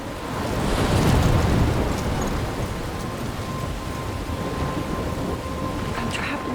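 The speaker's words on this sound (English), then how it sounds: "I'm trapped in a storm?" A stormy scene in Life is Strange brings heavy rain and surging waves under a deep rolling rumble of thunder, loud and enveloping, with no voice over it.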